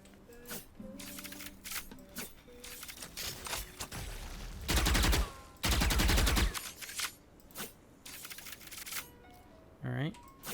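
Viper's snakebite lineup being fired in Valorant: two loud, dense bursts close together near the middle, set among lighter clicks and game noise, with talk heard.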